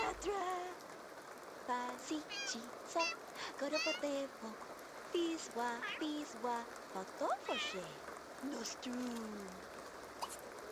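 A cat meows repeatedly in short, rising calls, close by, while a person talks gently over it with steady background noise.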